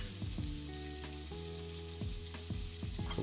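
Artichokes and radish stirred in olive oil with a thyme sprig, salt and white pepper in a pan, a soft steady sizzle with a few light scraping strokes, fairly quiet and close, no talk.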